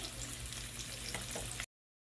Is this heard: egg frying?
yes